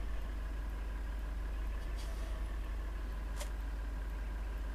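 A tractor engine idles in the video game Farming Simulator 2013 on the Hagenstedt map: a steady, low, continuous rumbling hum with a couple of brief clicks over it.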